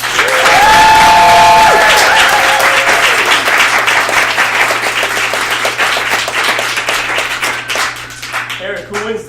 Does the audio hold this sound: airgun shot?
no